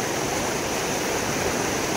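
Flooded stream roaring over submerged boulders in torrential monsoon rain, a steady, dense, close rushing wash of water with no break and no voices.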